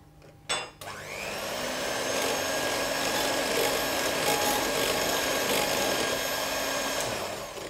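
Electric whisks churn a banana tart mixture, starting after a brief clatter and then holding a loud, steady whirring buzz that runs on unbroken.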